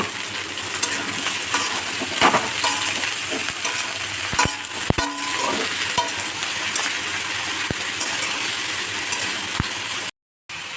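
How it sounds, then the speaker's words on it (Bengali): Snake gourd fries with browned onions and chilli in a pan, a steady close sizzle broken by scattered clinks and scrapes of a stirring utensil. "আমার চিচিঙ্গা ভাজা হয়ে এসছে।"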